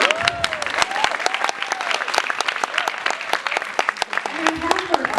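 Audience applause at a New York Comic Con panel, loud crowd clapping with scattered cheers and voices talking over it throughout.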